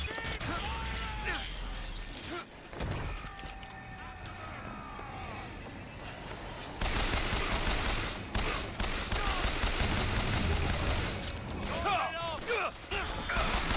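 Gunfire in BioShock Infinite rattles out in loud bursts of rapid shots mixed with mechanical clatter and shattering game effects, with a voice speaking at points.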